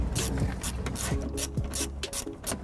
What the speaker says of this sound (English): I'm going to use a 10 millimeter socket and an extension if needed.